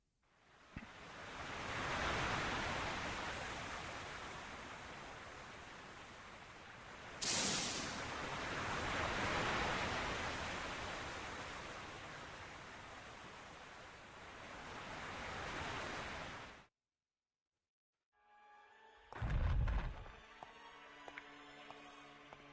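Loud, continuous ocean surf rolls and crashes for about seventeen seconds in the Pokémon Reminiscencia game, with a sharp bright burst partway through, then cuts to silence before brief game sounds follow.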